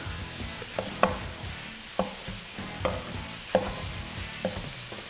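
Onion and sweet potatoes frying in a pan alongside sausage, a soft continuous sizzle broken by about six sharp scraping stirs spaced roughly a second apart, no voices.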